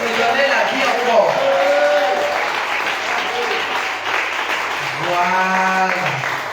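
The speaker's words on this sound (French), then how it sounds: "Est-ce qu'on peut acclamer le Seigneur?" A church congregation applauding and cheering to acclaim the Lord, giving dense, sustained clapping with raised voices and shouts mixed in, loud and close throughout, with voices rising near the end.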